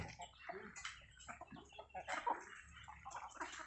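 Free-range village chickens kept for eggs gather and cluck in a busy yard, soft overlapping calls close by with a splashy, watery background texture and no clear talk.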